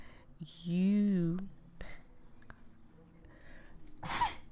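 A close, fairly quiet sneeze from a feverish, congested character in a dating-sim game: a drawn-out voiced wind-up, a pause, then a short sharp hissing burst.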